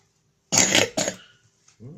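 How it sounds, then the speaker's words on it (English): A three-year-old child coughs twice in quick succession, close and fairly loud, followed by a short pause and a faint vocal sound. "Still coughing."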